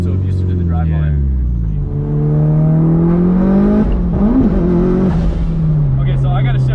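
Mitsubishi Evo 5 engine revving hard through a gear shift, a loud sustained drone that dips briefly at the shift and climbs again, with a voice talking over it.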